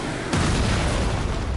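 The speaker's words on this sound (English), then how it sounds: "Okay, there are cannons." Cannon fire in the video game Lies of P: a sudden heavy boom that rolls into a dense, sustained rumbling blast, loud and close, with no talk.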